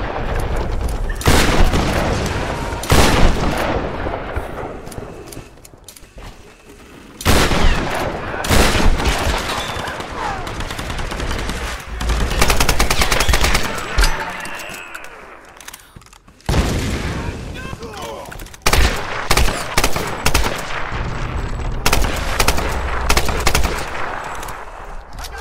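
Loud video game gunfire in Tomb Raider, shotgun blasts and other shots arriving in dense bursts with short lulls between them, while a voice talks over the action.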